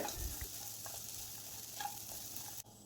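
A spoon stirs chopped mango, dates and sugar together in a pan, giving faint soft scrapes and a low sizzle with a few light knocks early on.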